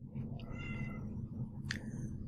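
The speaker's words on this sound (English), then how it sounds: "That's one of my cats. She just decided she wanted to pipe up." A house cat meows briefly indoors, a short high call standing out over a steady low background hum.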